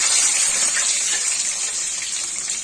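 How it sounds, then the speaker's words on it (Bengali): Potatoes frying in hot oil in a pan for a cauliflower curry, giving a steady, loud, close hiss and sizzle that stays even throughout. "আলুগুলো খুব সুন্দর করে ভেজে নিতে হবে যেন কাঁচা গন্ধ না থাকে।"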